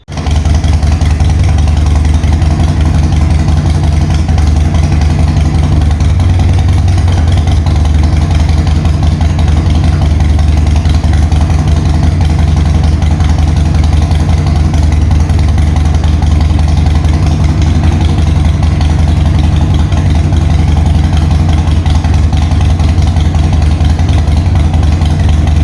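A Harley-Davidson Sportster 1200 motorcycle engine idles steadily and loudly, a deep low rumble holding an even throb throughout with no voices.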